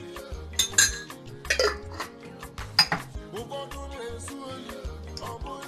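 Abacha African salad with stockfish, onion, diced vegetables and ehuru being mixed in a bowl, utensils clinking and scraping against the dish in irregular bursts, close and fairly loud.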